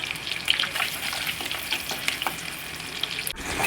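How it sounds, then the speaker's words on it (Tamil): Shallots and green chillies sautéing in a pan for a village-style anchovy fish curry, a steady close sizzle with soft stirring scrapes throughout, no voices. "கட் பண்ணி எடுத்து வச்சுருக்கோம் அதையும் இதோட சேர்த்து நல்லா வதக்கி விட்டுறோம்"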